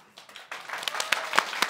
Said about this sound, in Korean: 박수 소리가 커야 신이 복을 주는 거지